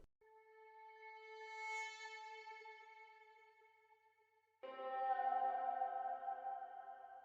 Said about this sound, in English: The second one is a reverse guitar phrase.